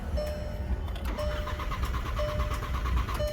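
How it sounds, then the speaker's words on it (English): A Volkswagen Tiguan cranks and its engine catches, settling into a steady mid-pitched idle with a faint repeating electronic chime, close and fairly loud. "I want to go ahead and start the car"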